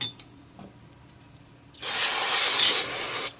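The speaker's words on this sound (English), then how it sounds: "Whole lot of brake cleaner." Brake cleaner is sprayed onto a car part during exhaust work on a 1982 AMC Concord. After a few faint knocks, one loud, steady aerosol hiss runs continuously for about a second and a half.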